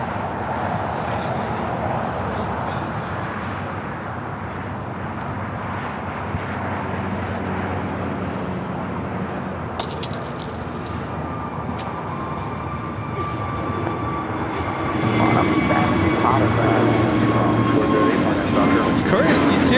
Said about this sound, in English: We've got that Avianca A320 Neo heading to San Salvador. Flight 525, now rolling down.